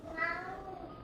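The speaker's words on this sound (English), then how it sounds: "That's his I want food meow." A pet cat gives a single drawn-out meow while asking for food in a home kitchen during vegan pumpkin cinnamon roll baking, close and clear, with a rising then falling tone and no talking over it.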